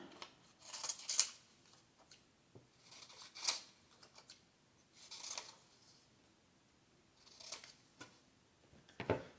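Scissors trimming excess cardboard for board game tiles, a series of separate crisp snips and crunchy cuts spaced out with pauses, close and fairly quiet, with no talking.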